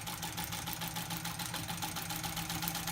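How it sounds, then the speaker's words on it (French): A sewing machine runs steadily, stitching bias binding onto a rug, its fast even mechanical whirr and rattle close and continuous with no talk. "Donc je règle ma machine. Attention, voilà. Et bien c'est parti, on y va, allez. Voilà, donc je couds."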